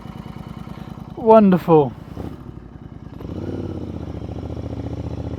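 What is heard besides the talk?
Royal Enfield motorcycle pulling away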